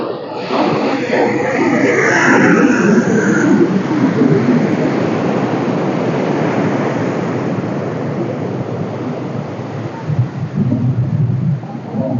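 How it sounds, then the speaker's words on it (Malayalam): Ocean surf rolls onto the shore at Shankhumukham beach in Thiruvananthapuram, a continuous loud roar of breaking waves mixed with wind rumble on the microphone, heard close and alone. "ആ ശംഖുമം ബീച്ചിൽ കടപ്പുറത്തെത്തി കടൽ തീരത്തിലേക്ക് എത്തിക്കുകയാണ്"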